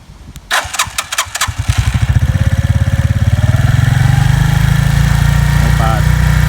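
A 200-pound Senke X6 motorcycle's engine catches after a bump start, a few uneven pops quickly settling into a loud, steady, close idle chug.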